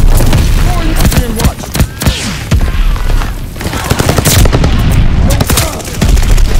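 Rapid bursts of BSA Welgun submachine gun fire in Call of Duty Vanguard, loud and close, mixed with booms and explosions of battle, with brief game voices in between.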